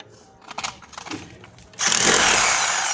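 Power drill boring a hole into a concrete ledge, starting abruptly about two-thirds through as a loud, steady, harsh whine after a stretch of quieter knocks and handling sounds.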